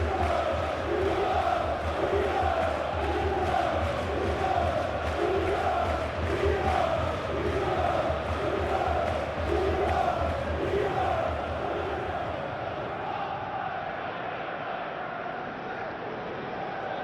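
Stadium crowd at a Crystal Palace vs Chelsea Premier League match, a dense roar of fans with rhythmic chanting pulses, easing slightly toward the end, heard beneath commentary.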